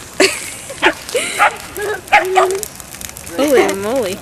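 A dog barks near a backyard bonfire burning the remains of a Christmas tree, with several sharp barks scattered among people talking and crackling fire.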